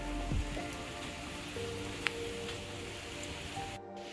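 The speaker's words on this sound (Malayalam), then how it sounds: "മഴ പെയ്യുന്നതുകൊണ്ട് ഭയങ്കര കുത്തൊലിച്ചിട്ടാണ് വെള്ളം പോണേ" Soft, steady patter of rain on surfaces in Kerala, faint and even throughout, with a few small clicks and knocks nearby.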